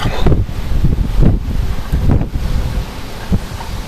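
Strong gusts during storm Kirk in Clermont-Ferrand buffet the microphone, a loud, rumbling roar that surges and eases in a few heavy pulses over a few seconds, with no voices.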